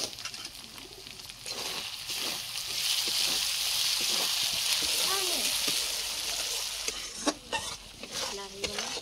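Masala for egg curry being stirred and fried in a pan, a steady close sizzle with scraping spoon strokes running through, plus a few faint bird chirps in the background.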